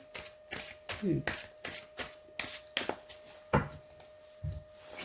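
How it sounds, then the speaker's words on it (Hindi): Tarot cards are shuffled by hand at close range, producing a series of quick, crisp riffling and tapping bursts in an uneven rhythm. "तो पहले हम सभी कार्ड्स शफल करके कार्ड्स निकालेंगे"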